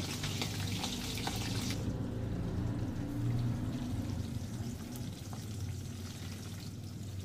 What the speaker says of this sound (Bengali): তারপর শিমগুলো কড়া তেলে আমি লবণ হলুদ দিয়ে ভালো করে ভেজে নেব